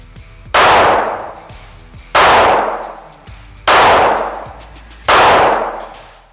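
Four loud, evenly spaced rifle gunshots fired at a target while testing a Cyelee Optics Chameleon SRS8 sight, each a sharp crack followed by a decaying outdoor echo.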